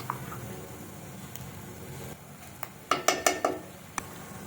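Spice paste being mixed into fried potatoes and bitter gourd in a pan: a soft background sizzle, then a quick cluster of sharp metallic utensil clinks against the pan and a final tap.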